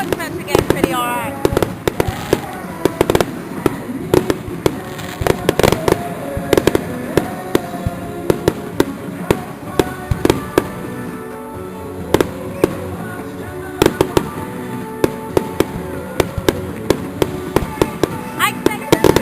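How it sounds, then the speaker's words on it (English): Fireworks at a summer celebration burst in a steady barrage of sharp bangs and crackles for the whole stretch, some near and some farther off, with voices and chatter from the crowd underneath. "Whoa, epic fireworks right there."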